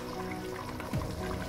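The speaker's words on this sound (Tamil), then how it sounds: "அதுக்கு பிறகு 750 மில்லி லிட்டர் தண்ணி விடுறேன்." Water poured from a container into a pot of mutton pieces for a Jaffna-style curry, a short close splash and gurgle of liquid filling the pot without talk.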